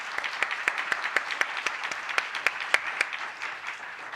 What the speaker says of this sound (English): So let's give the students a round of applause.